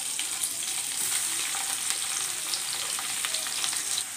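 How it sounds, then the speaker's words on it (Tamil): Sliced onion and slit green chilies sauté in a hot pan for vegetable pulao, giving a steady, close hiss of frying with faint scraping, alone without talk. "வெங்காயம் வதங்கிறதுக்கு கொஞ்சம் உப்பு சேர்த்துக்கோங்க."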